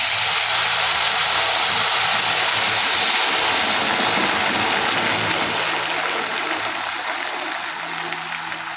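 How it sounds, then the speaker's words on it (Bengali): Boiling hot water pours steadily into rice being made into basanti pulao, a continuous loud rushing splash that fades slightly toward the end. "তো দেখো, আমি এখানে পরিমাণ মতন জল দিয়ে দিচ্ছি"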